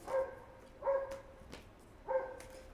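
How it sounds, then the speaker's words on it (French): A dog barks three times at a steady spacing, moderately close, with a few faint clicks and no talking in between. "En plus, ça aboie pour rien"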